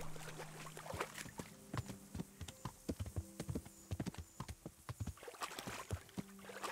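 Horse hooves clip-clop in a steady, close rhythm in the medieval game Kingdom Come Deliverance, with a faint low hum running underneath.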